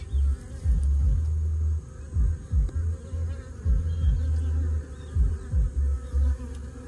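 Honey bees buzz around hives on a dragon fruit farm, a steady low drone swelling and fading in repeated bursts as insects fly close past, with no talking.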